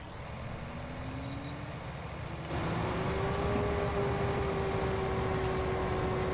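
A John Deere 8000i harvester engine in Farming Simulator 19 hums steadily up close, then its tone shifts partway through as the revs settle to a lower, continuous drone.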